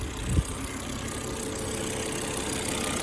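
A 2004 Volvo S80 with a timing-belt engine idles steadily in a low, even rumble, close and moderately quiet, with one brief thump near the start and no voices.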